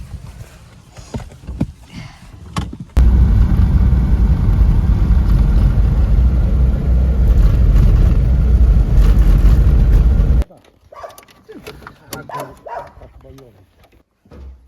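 A car drives along on a cold winter evening, a steady loud engine and road rumble lasting several seconds, with talk and handling noises before and after.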